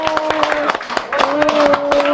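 An audience at an overseas Korean community forum claps in a brisk run of hand claps, partly covered by a voice carrying on over the applause.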